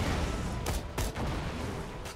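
Assault rifle fire in Borderlands: The Pre-Sequel, a dense, continuous rattle of rapid shots with a few sharper bursts standing out, loud and close throughout.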